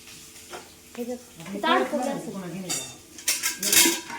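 A metal ladle scraping and clinking around a cooking pot, with irregular knocks and scrapes that grow louder toward the end while people talk over it.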